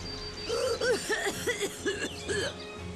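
A Lightning Returns: Final Fantasy XIII character gives a string of harsh, raspy coughs in quick succession, close and fairly loud, with a short pause near the end.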